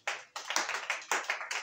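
A church congregation applauds in quick, uneven bursts of handclaps at moderate level, a brief round with no talking over it.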